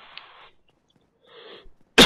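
A couple of soft, breathy rasps, then one sudden loud, sharp cough close up at the end.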